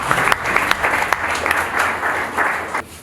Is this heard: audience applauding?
yes